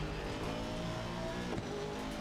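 A race car driven hard in a sim racing game, its engine droning steadily at high revs with a brief tire squeal partway through, continuous and fairly loud with no talking.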